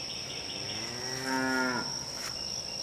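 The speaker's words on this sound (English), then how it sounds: "Did you hear Missy moo?" A single cow gives one drawn-out moo at a fair distance on a farm, rising from a quiet background with steady insect buzzing, then fading back into the outdoor hush.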